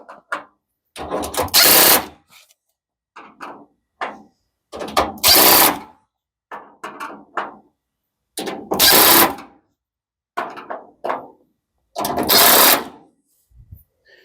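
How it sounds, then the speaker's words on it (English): A power driver tightens screws on a metal raised garden bed, giving loud, high whirring bursts about a second long, repeated four times with shorter, softer spins in between and quiet gaps. "I'm using my driver, and it just makes the job a lot quicker, but it makes a lot of noise."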